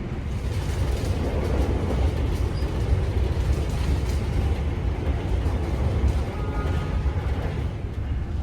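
Aboard a KA Anggrek passenger train in Indonesia, a steady heavy rumble and rattle fills the carriage as it runs over switches and sways, with a faint shivering clatter like a vibrating curtain, loud and continuous.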